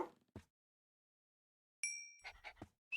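Two tamed dogs in the Minecraft video game pant in short, quiet bursts, followed by a brief high tonal chime and a few more soft panting puffs near the end.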